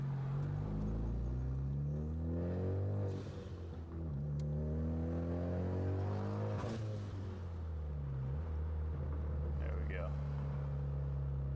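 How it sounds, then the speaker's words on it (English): A 2014 Ford Focus ST engine droning and shifting through gears as the car accelerates on a highway, with steady road rumble and wind noise throughout. "See how this sounds on the highway"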